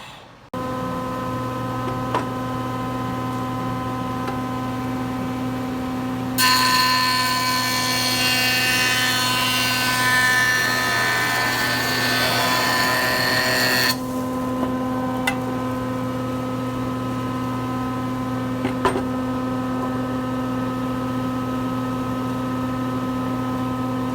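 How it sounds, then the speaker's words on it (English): Wood jointer planing glued-up base pieces for a power hammer stand: a loud, steady broadband whine of cutting that runs for several seconds over a constant machine hum, then stops while the motor keeps droning. "I got to put them in the joiner first"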